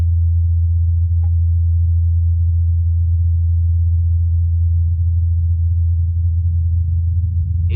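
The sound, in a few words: helicopter hum in a played recording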